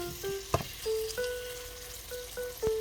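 Beef and vegetables sizzle as they are stir-fried in a pan, a soft continuous frying hiss punctuated by a few sharp clinks, with faint steady tones in the background.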